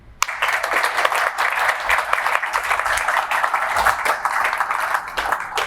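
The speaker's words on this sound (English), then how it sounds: "And as you can hear from that applause," A live podcast audience claps steadily for several seconds, full and even, with no voices over the applause.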